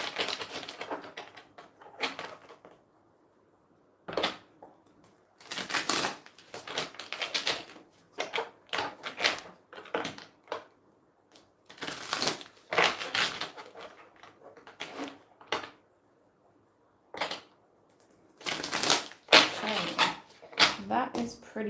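Tarot cards shuffled by hand in a reading, repeated bursts of crisp riffling and flapping, close and loud, separated by short silent gaps.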